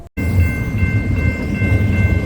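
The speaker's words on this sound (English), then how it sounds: "The water train, transporting the life-saving liquid by rail all the way from the U.S. East Coast to New Mexico." A freight train carrying water by rail rumbles past in a continuous, loud low roar with steady rolling noise after a brief silent start, no voices.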